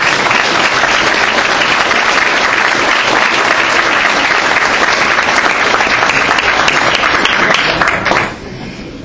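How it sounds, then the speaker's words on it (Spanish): Sustained, loud audience applause at the closing session of a Latin American conference on inclusive and sustainable development, steady clapping filling the hall for about eight seconds before tapering off. "Pido un aplauso para ella,"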